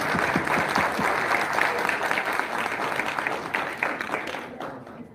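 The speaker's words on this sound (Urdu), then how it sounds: "تو چاہوں گی بھرپور تالیوں میں آپ ان کا استقبال کریں" A large audience at a 2022 religious gathering in Pakistan applauds to welcome the chief guest, Allama Hafiz Saad Hussain Rizvi, with dense, sustained clapping that stays loud and fades slightly near the end.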